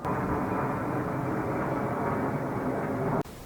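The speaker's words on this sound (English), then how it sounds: "I'm gonna wait for this plane to pass." Airplane passing overhead outdoors, a loud, steady broadband roar filling almost the entire stretch before cutting off abruptly near the end.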